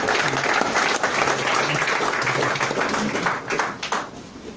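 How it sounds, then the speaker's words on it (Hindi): Applause welcoming a newly joined insurance agent in an office meeting, a dense, steady round of clapping from a group that holds throughout before thinning slightly at the end. "मैं चाहूंगा गोपाल जी का आप तालियों के साथ स्वागत करिएगा।"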